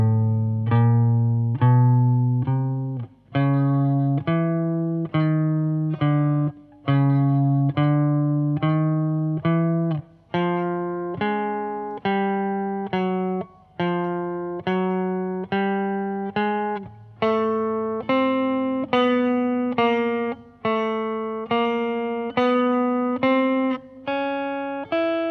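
A guitar plays a warm-up exercise, picking single notes one at a time in an even, steady pattern that climbs across all six strings and back, clear and close with no talking.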